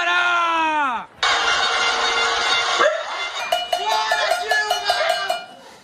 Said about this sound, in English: People were banging their pots,